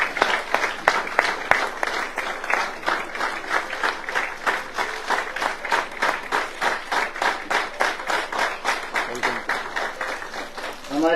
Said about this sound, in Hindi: जोरदार तालियों के साथ साथियों वेलकम करें।